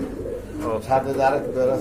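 Pigeons coo close by, soft repeated throaty calls in short rolling phrases, with a voice speaking faintly in the background.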